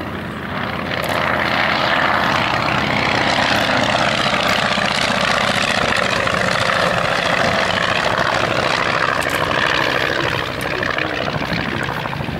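Vintage Comper Swift propeller aircraft flying at Old Warden airfield, with a steady, loud engine drone and propeller buzz that holds alone throughout.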